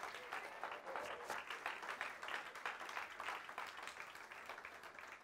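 Steady applause from a church congregation during a sermon, continuous rapid clapping at moderate volume for several seconds.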